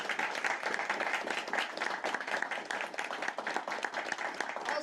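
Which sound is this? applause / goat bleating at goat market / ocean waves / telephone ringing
applause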